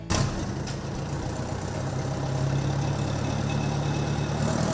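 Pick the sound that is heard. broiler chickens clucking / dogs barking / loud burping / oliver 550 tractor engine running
oliver 550 tractor engine running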